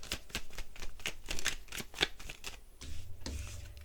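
Tarot cards shuffled by hand in quick, crisp riffling bursts at close range. A low hum joins near the end, and nobody speaks.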